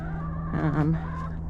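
A chicken clucks briefly, a short run of soft, throaty calls close by against a steady low hum.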